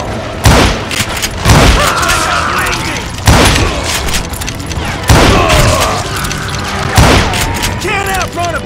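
Booming gunshots from the Western shooter Call of Juarez Gunslinger, loud blasts at roughly two-second intervals with a clattering, reverberant tail after each, over a continuous game sound bed.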